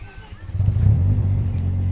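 A heavily modified 1996 BMW Z3 fitted with a 13B rotary engine idles with a steady, loud low-pitched drone that swells after a quieter start and holds, with faint voices in the background.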